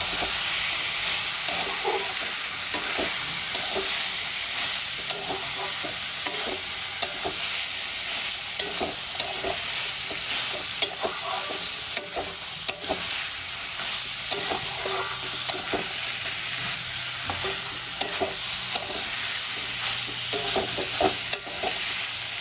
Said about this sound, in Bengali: আমি সেদ্ধ করা মটরটাও দিয়ে মশলার সঙ্গে একই সঙ্গে আস্তে আস্তে কষাতে থাকবো।